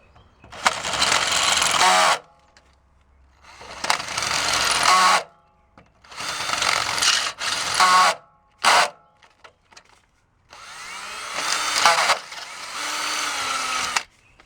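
A dull drill bit grinds in several bursts of a few seconds each, with short pauses between, rough and labored as it enlarges a hole for a 2008 Honda Odyssey under-engine front splash shield.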